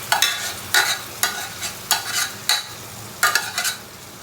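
A spoon scrapes and stirs cooked pork through thick gravy in a pan while it gently sizzles. Distinct strokes come roughly every half second to second, close and clear over a soft, steady frying hiss.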